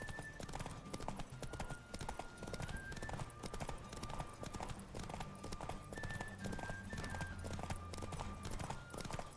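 Galloping hooves of Roach, Geralt's horse in The Witcher 3, pound on in a fast continuous clip-clop during a race, with tonal game music layered beneath.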